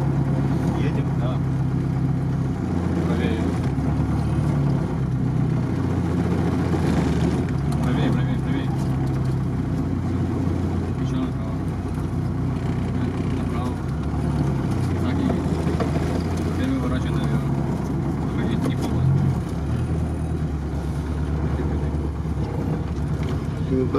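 A LuAZ car drives off-road with a low, steady engine rumble and wind buffeting throughout, while people talk inside over the continuous drone.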